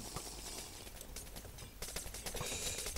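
A skeleton firing shots in the video game Inferno Mines, rendered as rapid, fairly quiet rattling bursts of gunfire in quick succession against steady game noise, with no one talking.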